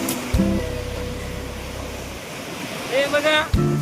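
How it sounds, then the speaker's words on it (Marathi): Big sea waves roll in on an Arabian Sea beach, a steady broadband roar of surf and wind close by, with people talking over it toward the end. "हे बघा शकता तुम्ही किती मोठमोठ्या लाटा येत आहेत"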